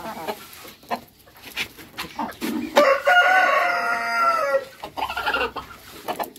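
Fayoumi and Baladi crossbreed chickens clucking in short bursts around a long, clear rooster crow in the middle, fairly close and loud.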